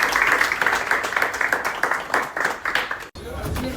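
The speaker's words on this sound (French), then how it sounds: "Je pense qu'on peut encore l'applaudir." Applause and clapping from a live audience backstage at a French talent-house show, following a performance; dense clapping runs steadily for several seconds under voices, then cuts out abruptly and is followed by a brief, quieter wash of crowd noise.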